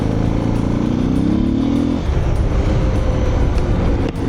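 Suzuki DR 650 motorcycle engine on a dirt test ride, loud and close, revving upward through a gear before settling into a steady rough drone with wind buffeting.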